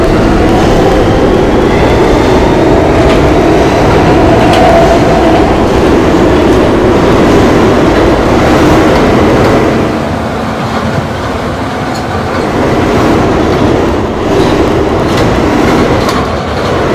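An E train subway runs on the tracks: a loud, continuous rumble and rattle of wheels and cars, easing briefly midway before building again, with no talk.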